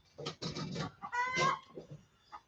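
Chicken clucking in a short run of close, loud squawky calls with brief pauses, one longer drawn-out cluck in the middle and a final short call, with no talk.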